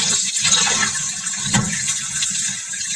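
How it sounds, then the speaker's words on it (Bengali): Steady running water from a tap while fish is rinsed clean in a kitchen, a continuous broadband wash with small splashing variations, fairly close and alone without voices. "এই মাছটা ভালো করে ধুয়ে ফিরতেছি"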